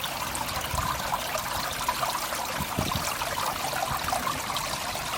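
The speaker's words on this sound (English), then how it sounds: "This is the waterfall as it flows in." A pond filtration waterfall pours steadily into a koi pond, a constant close splashing trickle with no pauses and no voices.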